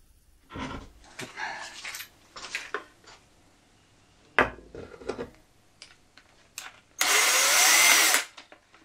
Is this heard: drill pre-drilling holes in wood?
yes